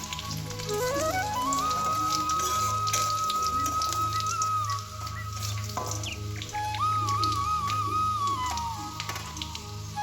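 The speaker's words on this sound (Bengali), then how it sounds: "তেলের মধ্যে এই যে রসুন কুচি করা আছে, তেলের মধ্যে দিয়ে দেবো" Chopped garlic sizzles steadily in hot oil while chili paneer is cooked at home, a dense crackling patter like rain that runs throughout beneath a melodic background tune.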